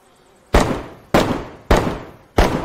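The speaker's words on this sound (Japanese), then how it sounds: "めっちゃ上で銃声してる。" Four loud gunshots in DayZ on Xbox One X spaced roughly evenly, each a sharp bang that fades into a brief echoing tail.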